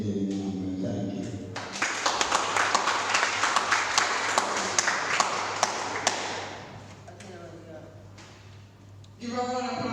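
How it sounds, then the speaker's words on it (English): An audience at a poetry and storytelling open mic breaks into loud, sustained applause with crisp individual claps, swelling after a speaking voice and fading before talk resumes at the end. "Give a round of applause again."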